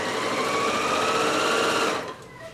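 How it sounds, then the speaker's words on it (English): Sewing machine running steadily as it stitches a straight seam along the curved edge of a fabric face mask, a close, continuous whir that stops abruptly near the end. "So all I need to do is to sew along this curve."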